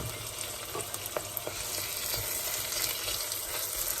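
Tomatoes and green chilies hit frying onions in a pan for dhaba-style Pakistani chana dal tarka, giving a loud, continuous close-up sizzle with faint stirring scrapes throughout.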